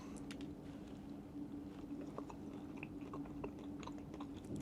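Soft, close chewing on a small piece of decorative white chocolate, quiet crunchy bites repeating over a faint steady background hum.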